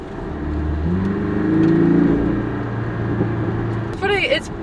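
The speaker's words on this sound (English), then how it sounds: "I am getting a good amount of little burbles and pops when it comes to shifting this car" A 2018 Porsche Cayman S engine revs and settles through a gear change, followed by a short burst of crackling exhaust pops near the end.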